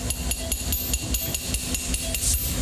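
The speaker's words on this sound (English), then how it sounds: "And now we got through it by tapping." A surgical instrument is tapped through a femur bone during retrograde femoral insertion, producing a rapid, even series of metallic taps, about five per second, over low operating-room hum, without speech.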